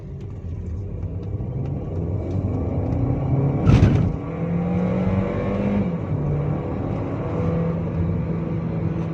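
A Volkswagen Lavida's engine drones steadily from inside the cabin with a rising hum, a sharp thump midway through, and the engine tone climbing again as the car speeds up.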